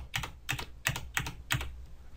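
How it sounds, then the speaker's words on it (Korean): A computer keyboard used to press the Ctrl+H shortcut during an architectural rendering tutorial, heard as five close, evenly spaced, crisp key clicks with nothing else around them. "이 상태에서 컨트롤 H 눌러서"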